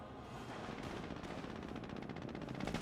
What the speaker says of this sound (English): Now the Jeep engaging the MG42 at point blank range